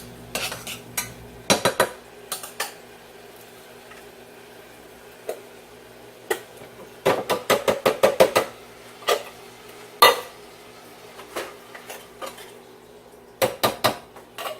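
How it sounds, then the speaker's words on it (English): Green beans are added to a pot of softened onions and stirred, giving a run of close, loud clanks and scrapes of a utensil against the pot, some in quick clusters and others spaced apart. "So now we're gonna put the green beans in, because my onions have softened up."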